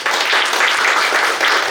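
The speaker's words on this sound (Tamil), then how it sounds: "ஒரு பலத்த கைத்தட்டல் கொடுக்கலாம்" An audience at a Women's Day event claps loudly and densely in steady, continuous applause from start to finish.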